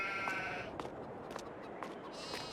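Sheep bleat in the Farming Simulator 22 video game near the sheep building, with several drawn-out calls repeating over a steady, busy game background.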